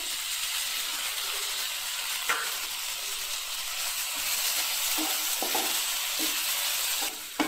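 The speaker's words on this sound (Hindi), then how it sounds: "यहाँ पर मैं डाल रही हूँ एक मीडियम साइज का महीन कटा हुआ टमाटर" Chopped tomato frying in a pan with masala oats, giving a steady bright sizzle throughout with a few soft stirring scrapes and clicks, close and alone without talk.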